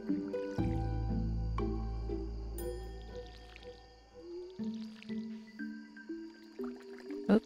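Watering crops with a watering can in the farming game Stardew Valley produces soft synthetic splashing and squishy droplet tones, several quick watery bursts in succession over a gentle melodic game background, fairly quiet.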